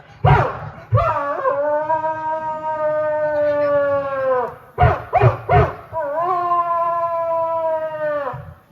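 A human voice imitates a dog: long howling whines broken by a quick burst of short barks, loud and close, with no real animal present.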